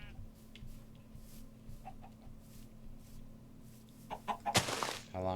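Chickens clucking in the Minecraft game Rycraft, soft scattered clucks over a low hum that give way to a louder burst of squawking near the end.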